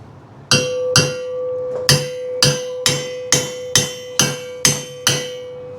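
A hammer strikes metal on a custom rear frame for a 1941 Chevy air suspension build, about a dozen loud ringing taps in a steady, slightly quickening rhythm, each with a clear metallic ring, close by.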